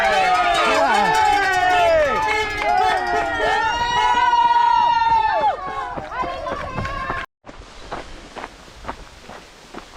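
A crowd at a checkpoint of the Nice Côte d'Azur by UTMB trail race cheers and shouts loudly and close by for several seconds, then it gives way to a runner's footsteps on the trail.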